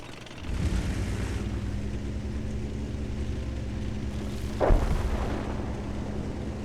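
Artillery fire in the tank game World of Tanks: a low, rumbling boom rises early and holds, then a sharper impact lands near the five-second mark over steady engine drone.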